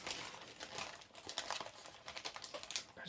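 A plastic bag from an Airfix 1/144 Hawker Siddeley Trident 1C model kit crinkles and rustles up close in quick, faint bursts of crackling handling.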